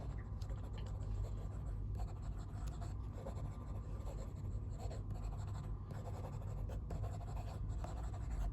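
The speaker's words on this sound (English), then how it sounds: "No issues with fast writing here, no hard starts, no skipping." An Asvine V200 fountain pen writes quickly on paper, its nib making a steady, close, soft scratching that runs unbroken without pauses, with no voices.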